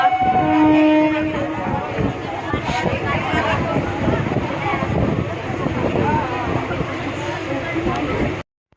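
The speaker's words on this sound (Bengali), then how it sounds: "তো লোকাল ট্রেনে উঠেছি, আর লোকাল ট্রেনে প্রচণ্ড ভিড়।" A packed local commuter train running, with a steady rumble and rattle of the carriages under loud chatter from the crowded passengers nearby.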